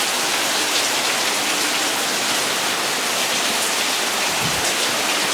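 Heavy rain pours down steadily as a dense, loud, unbroken hiss of drops hitting surfaces, with no voices or other sounds over it.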